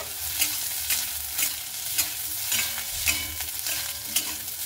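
Garlic fries in a pan alongside already fried potato and eggplant for a spinach dish: a steady sizzle with regular rhythmic stirring scrapes about every half second to second, close and moderately loud.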